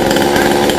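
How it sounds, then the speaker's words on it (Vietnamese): A saw buzzes loudly and continuously at close range, a harsh steady whine of cutting through the branches of a large rain tree. "Cưa từng nhánh nhỏ luôn"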